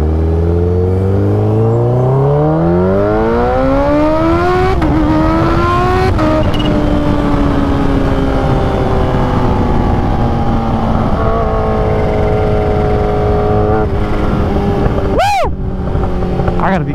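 A Kawasaki Ninja H2 motorcycle roars loudly and close, its engine pitch rising and falling through gear changes and hard acceleration, with a sharp rev spike late on.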